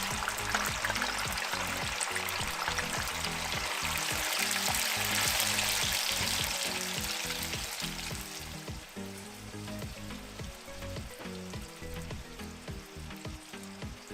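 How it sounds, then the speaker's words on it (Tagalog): Sliced tofu frying in hot oil in batches for a chicken tofu sisig sizzles steadily and close, with rhythmic stirring scrapes and a bright hiss that swells, then settles quieter. "Pinirito ko lang yung sliced tofu into batches."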